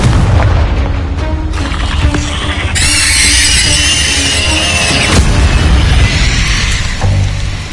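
A Confringo blasting spell in Hogwarts Legacy erupts in a loud, sustained explosive boom with crackling bursts and a shrill squeal, rumbling continuously for several seconds with no talking.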